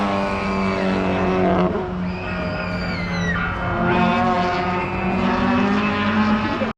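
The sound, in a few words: race car driving on a racetrack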